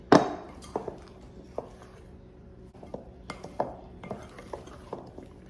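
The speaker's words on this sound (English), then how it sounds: "we'll give that a good stir" Texas sheet cake batter being stirred in a bowl, a spoon or whisk knocking and scraping against the sides in irregular clinks and taps, close and moderately loud with quiet gaps between strokes.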